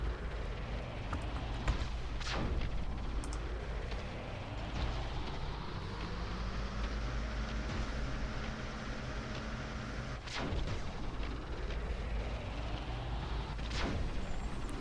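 Repeated gunfire from a short-range proton pulse gun in the strategy game Defense Task Force, sharp shots cutting through a dense, steady rumble of battle and machinery, with a couple of louder bursts standing out near and prominent.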